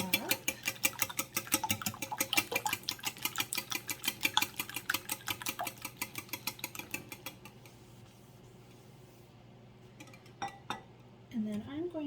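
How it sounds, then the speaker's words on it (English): Eggs are whisked in a bowl in a fast, even run of clinks and taps for about seven seconds, then the beating stops. A voice comes in briefly near the end. "So I'm just going to whisk these up."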